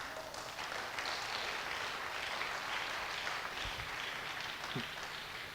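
A church congregation applauding for Jesus during a sermon, with faint, distant clapping that spreads into a steady wash of sound lasting several seconds.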